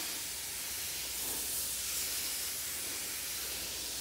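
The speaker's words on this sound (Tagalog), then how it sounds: "mag-spray tayo dyan" A garden sprayer hissing steadily as it mists a bean patch, a continuous broadband spray close by with no voices over it.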